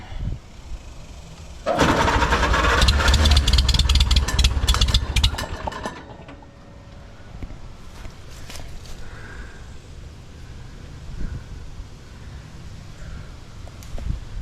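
A 1946 Farmall tractor engine being cranked on a farm, with a loud rough burst of turning over and sputtering for several seconds, then dying away to quiet background noise with faint clicks and no talking.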